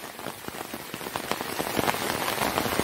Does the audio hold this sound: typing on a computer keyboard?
no